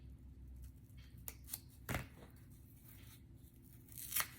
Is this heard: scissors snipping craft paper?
yes